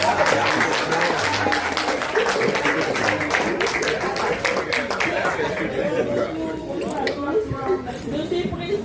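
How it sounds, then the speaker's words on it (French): Staff at an end-of-year coffee break gathering clap for a colleague, a mix of scattered handclaps and murmuring chatter, with voices talking over the applause as it fades. "nous l'applaudissons."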